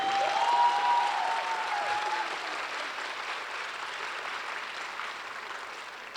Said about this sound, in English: shall we give another warm round of applause to Ildikó Enyedi